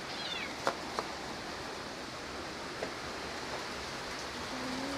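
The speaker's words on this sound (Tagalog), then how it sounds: "Very lakas ng ulan." Heavy rain falls steadily as a dense, even hiss that fills the whole clip, with a few faint brief clicks standing out and no speech.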